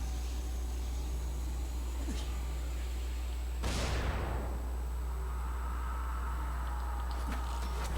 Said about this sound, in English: How many childs out of 10 would you rate that explosion?